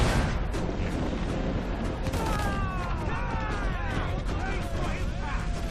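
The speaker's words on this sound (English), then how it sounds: "Cannon ready! Fire!" A pirate ship fires a broadside of cannons in Assassin's Creed IV: Black Flag, a dense continuous roar of booms and crashes over sea battle noise, with voices shouting throughout.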